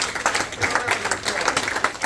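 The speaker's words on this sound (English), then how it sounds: "Give him a round of applause." An audience breaks into brief applause, a quick patter of many hands clapping at close range that carries steadily for a couple of seconds.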